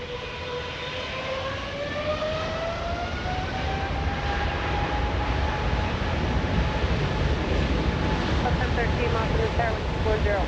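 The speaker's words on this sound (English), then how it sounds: "Air France 65 flying to Paris this afternoon" An Air France airliner bound for Paris takes off at Los Angeles International Airport, a loud, steady jet roar with a rising whine that sweeps across and holds throughout.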